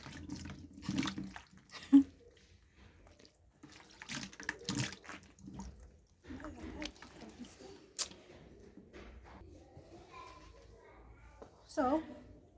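Water splashes as tomato scrub is rinsed off a face, in intermittent soft bursts of splashing and dripping, with someone talking quietly at times.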